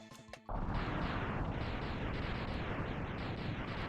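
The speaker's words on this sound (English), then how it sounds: "fire off missiles" Missiles fired during a boss fight in the game Mega Man X set off a dense, continuous roar of explosions that begins abruptly after a brief quieter moment and stays loud throughout.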